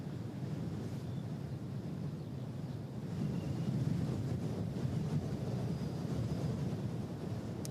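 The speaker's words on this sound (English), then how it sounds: "this wind today is just not supposed to be here" Strong wind buffets the microphone at Christchurch Airport, a steady broadband rush that swells louder from about three seconds on, with no voices.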